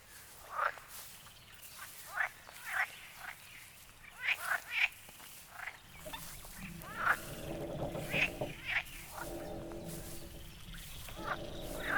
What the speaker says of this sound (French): Le crapaud coasse.